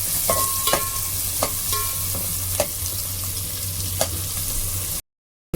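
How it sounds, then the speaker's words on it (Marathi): Onion frying in hot oil in a pan, a continuous dense sizzle with intermittent scraping taps of stirring, then an abrupt cut to silence near the end. "आता तेल छान तापलेलं आहे. आपण आता कांदा घालून घेऊ. कांदा छान व्यवस्थित परतून घेऊ."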